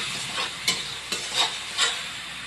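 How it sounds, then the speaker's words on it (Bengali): Spices stirred and frying in a pan with salt and chili powder, a steady soft sizzle broken by a few louder scraping stirs, close and alone. "দিয়ে এখন আমি মশলাটাকে ভালো করে কষে নেব"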